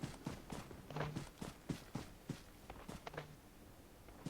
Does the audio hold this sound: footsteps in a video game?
yes